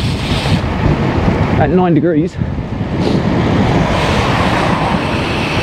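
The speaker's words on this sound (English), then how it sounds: "it's windy" Wind buffets the microphone during a motorbike ride on a local road, a loud, steady roar that runs throughout while someone briefly speaks.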